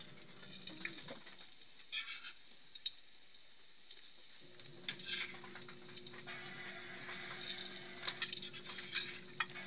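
Garlic frying in a home kitchen pan, a steady broad sizzle that swells around midway and continues at moderate level, with occasional clinks of a utensil stirring against the pan.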